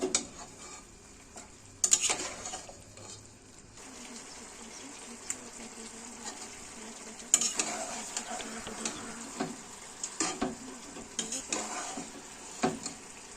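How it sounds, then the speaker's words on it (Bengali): Country chicken curry being stirred and mixed in a pan: a steady sizzle with a spoon scraping and clanking against the metal, sharper clatters at intervals, and no talking. "পরে একটু মিক্স করে নেব, 5 মিনিটের মতো যেমন মিক্স করে নেব"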